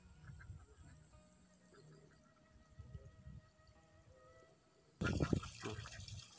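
Ducks on a duck farm among rice fields quack and honk in a low, continuous chorus at moderate distance, with a louder burst of splashing and calls near the end.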